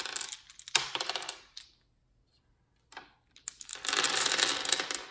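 Plastic dice for the On-Sets game are gathered up and shaken, giving two bursts of dense rattling and clattering separated by a short pause. A few lighter clicks fall in the gap. Nobody talks.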